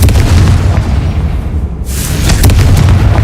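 A Confringo blasting spell explodes in Hogwarts Legacy, a loud, deep boom followed by a rumbling tail, with a short dip and then a second surge of blast noise.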